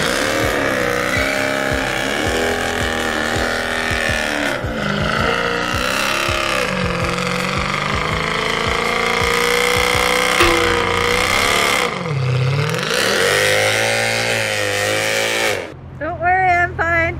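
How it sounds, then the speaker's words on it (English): A Mercedes C63 AMG with a pops and bangs tune does a smoky burnout, its engine revving hard in loud sustained roars that rise and dip, then cutting to sharp crackling bursts near the end. "You said you wanted a burnout, guys, so here you go."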